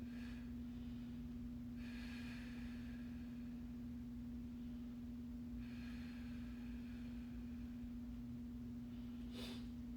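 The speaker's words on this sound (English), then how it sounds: "Full inhale, full exhale." Deep breathing during a stick mobility workout class, with two long, airy full breaths and a short sharp one at the end, fairly close over a constant low electrical hum.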